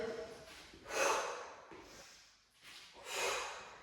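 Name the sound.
instructor breathing in during cardio workout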